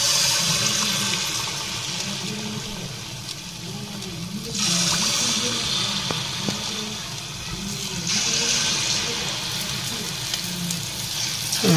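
Mysore bhajji batter frying in hot oil gives a steady, dense sizzle and bubbling that swells in two louder surges, close and continuous with no talking.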